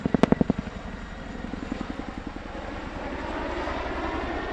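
Twin 5,000-horsepower engines of an RAF Chinook helicopter in an airshow display at Cosford 2023. Loud rhythmic rotor thumps open the clip, then merge into a steady, swelling engine roar.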